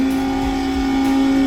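A wood lathe spins at about 3800 RPM while a double-ended negative rake scraper is brought to the work, giving a steady, even motor hum with a constant tone throughout and no pauses.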